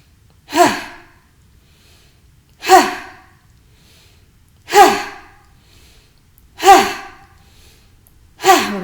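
Five forceful breaths during a guided meditation, evenly spaced about two seconds apart, each a sharp, breathy burst that fades quickly, close and clear against a quiet background.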